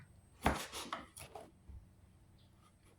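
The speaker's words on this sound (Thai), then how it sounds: "นี่เราก็จะหั่นเชเฉียงค่ะ" A kitchen knife slices chili peppers diagonally on a board while someone cooks stir-fried mussels with chili paste. A few quiet, close cutting taps and scrapes come in a short burst, then faint rustling.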